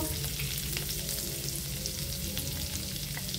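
Butter sizzles loudly in a hot pan with a steady frying hiss and scattered small pops throughout, close and continuous with no voices.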